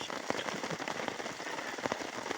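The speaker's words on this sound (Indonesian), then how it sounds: "Hujan." Rain falls steadily on a forest mountain trail during a multi-day crossing of Mount Argopuro, a dense close patter of drops hitting leaves and ground with a few sharper taps.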